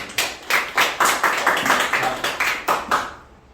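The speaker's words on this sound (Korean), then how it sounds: "박수로 환영하겠습니다" A small audience claps to welcome a speaker at a Korean business lecture on organization and sales strategy: a few quick, distinct hand claps with no talk, fading out at the end.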